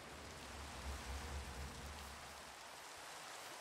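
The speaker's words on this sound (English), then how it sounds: "And it's raining." Rain in the Minecraft video game, a steady soft hiss of falling rain that stays constant and fairly quiet throughout, with no voices.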